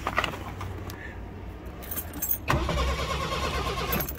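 A 1982 Ford Mustang Fox body convertible starting from cold, with faint key and clicking sounds before the engine cranks and catches into a steady idle, close by and without talk.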